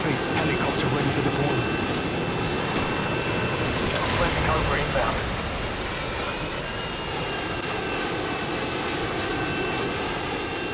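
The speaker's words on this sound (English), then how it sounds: "Helicopter ready for deployment." A video game helicopter sounds out on an online team deathmatch favela map, a loud, steady engine roar that runs throughout and eases slightly halfway, with voices over it.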